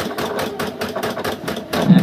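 A sewing machine runs at speed with a rapid, regular mechanical chatter of even pulses. It is close and steady, with no one speaking.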